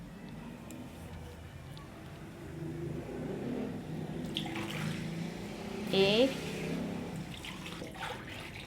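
Water is poured into a cooking pot of spiced nihari, a soft splashing gush that grows louder near the end, under someone talking.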